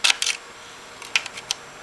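Small screws are taken out while a Nintendo Wii console is being disassembled, heard as a few close, sharp clicks and ticks in two short clusters against a quiet background, with no talking.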